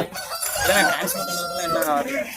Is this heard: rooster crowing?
yes